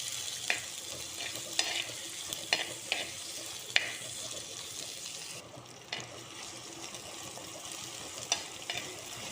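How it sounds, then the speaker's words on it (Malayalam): Prawns frying in a pan of curry with tomatoes being stirred in, a steady broadband sizzle with repeated soft scrapes and clicks of the spoon, close and moderately loud, no talking. "ഇതിലേക്ക് നമുക്ക് തക്കാളി ഇട്ട് കൊടുക്കാം. നമുക്കൊന്ന് നന്നായിട്ട് ഇളക്കി കൊടുക്കാം."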